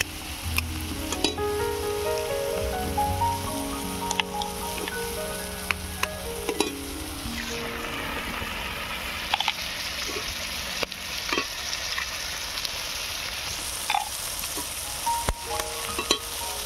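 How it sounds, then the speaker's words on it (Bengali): Scrambled eggs and vegetables frying in a pan for a piring shaak roll, a continuous loud sizzle with frequent scraping and clanking stirs throughout, close up. "ডিমগুলো সবজির সঙ্গে দেখো আমি ঝুড়ো ঝুড়ো করে নিয়েছি, এবার একটু ভালো করে ভেজে নেব"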